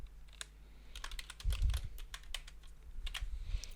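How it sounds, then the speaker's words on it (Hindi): Typing on a computer keyboard while filling in an HTML input field, a close, quiet run of irregular key clicks with a few firmer taps and soft background hum, no voice. "मैं लेबल के अंदर लिखता हूँ नेम।"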